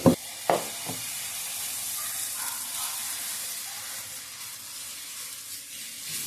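Dosa batter poured onto a hot griddle pan, a couple of quick knocks at the start, then a steady broad sizzle and hiss that holds evenly, with no talk.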